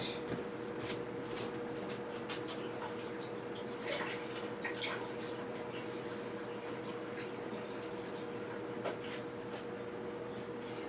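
Running tap water pours steadily in a kitchen sink while something is rinsed out, with small splashes and clinks over a constant hiss, fairly close.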